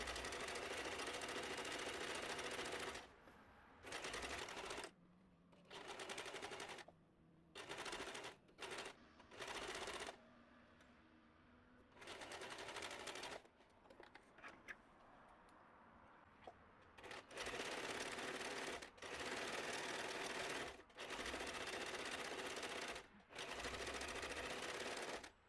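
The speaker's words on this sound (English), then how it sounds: "Set your machine to a straight stitch of about 2 mm length, and then we sew 8 mm from the edge" A sewing machine runs a straight stitch of about 2 mm length along a fabric edge for a summer wrap dress, in repeated bursts of steady mechanical whirring separated by brief pauses.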